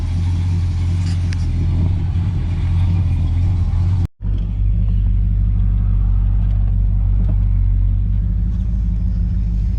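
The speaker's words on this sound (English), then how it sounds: "Go for us a little road test in the Big Fury with the new cam." A Plymouth Fury with a 440 V8 and freshly swapped cam, heard on a road test: a loud, steady low engine rumble fills the cabin, broken by a brief dropout, then resumes strong and continuous.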